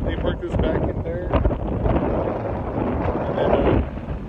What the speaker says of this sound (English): But it is super windy and it's cold